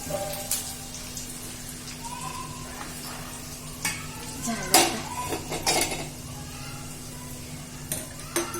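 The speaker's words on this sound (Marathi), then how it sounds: "हे बघा आता हे सगळं हलवून घ्यायचंय आपल्याला" A homemade mango pickle mixture of oil-coated spices and garlic is stirred in a pan. A low steady hum sits under intermittent spoon clinks and scrapes, with a brief burst of clatter midway and little other activity.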